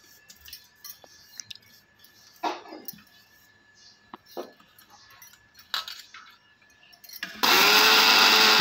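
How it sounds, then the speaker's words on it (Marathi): Mixer grinder grinding roasted white sesame, grated coconut and jaggery powder, starting abruptly after scattered clinks and taps of a jar being handled and then roaring loudly and steadily to the end. "हे सर्व आपल्याला मिक्सरमध्ये बारीक कुटून घ्यायचं आहे"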